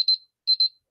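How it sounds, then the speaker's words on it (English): A digital timer alarm goes off after a five-minute countdown, sounding two quick pairs of high electronic beeps with a short pause between them, clear and close with no other sound. "I put a timer for 5 minutes and look like my 5 minutes is over."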